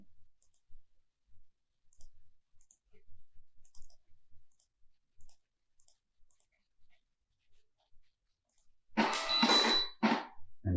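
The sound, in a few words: kitchen order ticket printing on a POS printer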